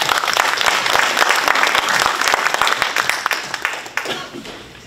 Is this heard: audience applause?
yes